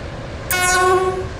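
Train arriving at a station in the SCR (Stepford County Railway) video game on the Waterline route, a sudden bright horn-like harmonic tone starting mid-clip and holding steady over a low background hum.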